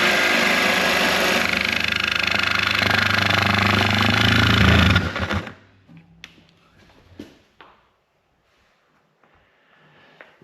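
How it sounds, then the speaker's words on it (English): A jigsaw set to its highest speed cuts loudly and continuously for about five seconds, then stops abruptly, leaving scattered faint clicks and handling knocks during a cat door installation. "Make sure you have a really firm grip on the jigsaw. We're going to set it at its highest speed,"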